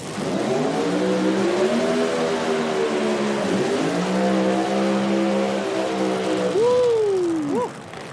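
A pro mod drag race car engine revs hard at an IHRA qualifying event, a loud, sustained roar with rising and falling pitch, climbing sharply to high RPM near the end.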